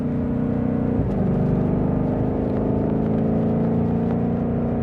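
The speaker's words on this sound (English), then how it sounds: "Let's see if I get it to do that little pop sound too." A Lethal Performance 2020 Shelby GT500 drones along with a loud, low exhaust rumble, broken by one sharp exhaust pop just after the first second, heard without any voices.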